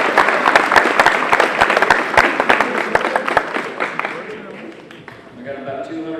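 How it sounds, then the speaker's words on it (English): A round of applause at a high school football banquet, a crowd clapping loudly and close with sharp individual claps, thinning out as a voice begins speaking near the end. "Now let's give a big round of applause."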